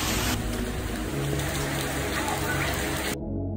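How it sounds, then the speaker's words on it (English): Night rain pouring in Canggu, Bali, a dense steady hiss of water hitting surfaces that holds evenly at close range, with a faint high electronic whine above it, before the sound drops out abruptly near the end. "First day of rain we got on our last night here."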